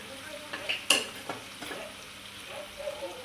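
Soft sizzling in a pan with scraping stirring strokes, including a sharp metallic clink, as onions with turmeric are sautéed for a brinjal curry; no voices.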